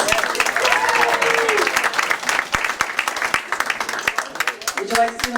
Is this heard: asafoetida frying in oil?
no